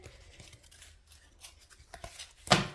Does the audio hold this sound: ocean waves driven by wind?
no